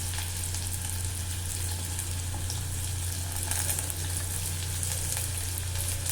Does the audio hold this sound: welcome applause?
no